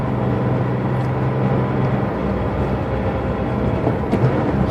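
A Porsche 911 engine rumbles through a downshift, a steady low drone that drops in pitch after the first couple of seconds, with a few faint clicks near the end and no speech.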